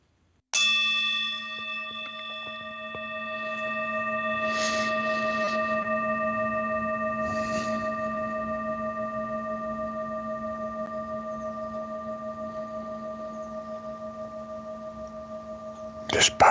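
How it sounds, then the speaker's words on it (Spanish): A meditation gong or bell is struck once and rings with a clear, steady tone that fades slowly over about sixteen seconds in a quiet room. Faint soft sounds pass under the ring, and another strike comes near the end. "Tocaré un gong."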